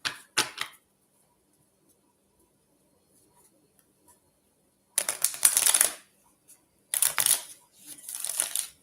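Tarot cards being shuffled, a few short riffling flicks at the start, then a long quiet gap and two longer bursts of close, crisp card shuffling, no talk.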